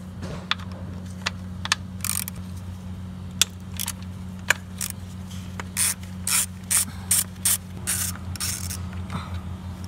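A ratchet works on 10 mm bolts while a valve cover is removed from an Acura RDX, quiet scattered clicks early on that build into a faster series of close, crisp ratcheting bursts over a low steady hum.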